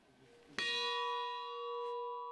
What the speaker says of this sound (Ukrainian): Під дзвін, що пролунав рівно 58 разів